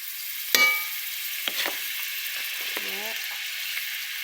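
A spoonful of butter lands in a preheated pan, giving a sharp initial sizzle followed by soft crackling, faint utensil clinks and a short voice sound over a steady hiss.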